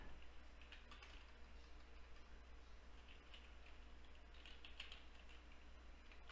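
Soft, scattered clicks of fingers typing on a computer keyboard, quiet and close, with a faint steady hum underneath and no speech.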